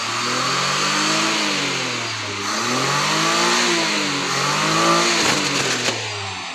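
A 1984 Daihatsu Charade G10 engine is revved hard at full throttle, its loud, close mechanical drone rising and falling in pitch across several sustained pulls, with a few sharp knocks near the end.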